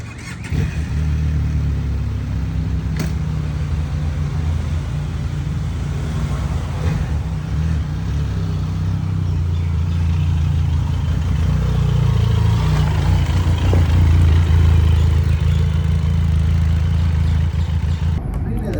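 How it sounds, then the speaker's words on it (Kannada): A Benelli TRK 502X motorcycle runs with a loud, steady, low engine rumble that swells gradually as it rides off, with voices in the background. "ರಾಹುಲ್ ಬೈಕ್ನ ತೊಗೊಂಡು ಹೋದರು"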